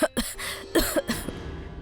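Several harsh, raspy coughs in quick succession, close by, leaving a hoarse, breathy tail.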